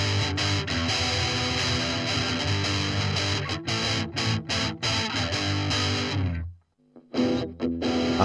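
Heavily distorted electric guitar on an amp's metal channel with a flat EQ, playing a loud, dense riff of chugging chords and stops, a short silence near the end before the riff kicks back in, no voices.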